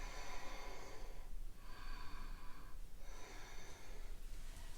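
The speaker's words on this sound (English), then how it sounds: "Breathe fully." During a seated yoga twist, slow, full breaths come in long, airy waves, three or four inhale-exhale cycles, soft and close with no talking.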